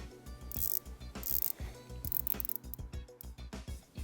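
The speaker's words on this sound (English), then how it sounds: "In terms of action, well, it does feel budget. It's most likely just a piece of wire rather than a proper Seiko style bezel spring underneath" The ceramic bezel of a Cadisen Aquadiver budget dive watch, sprung by a simple wire rather than a Seiko-style bezel spring, gives off crisp, close ratcheting clicks in quick, uneven bursts as it is rotated.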